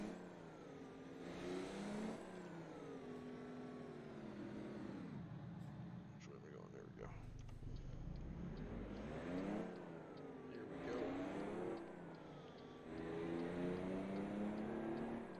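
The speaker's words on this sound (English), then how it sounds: "This truck is pretty loud." Ford LTL 9000 truck engine in American Truck Simulator, a loud droning motor that rises and falls through repeated gear-change revs, with someone talking over it.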